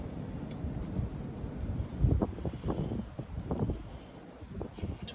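Outdoor wind storm with gusts around 35 mph, rumbling buffets against the microphone that swell and ease, with rustling in between and no clear voices.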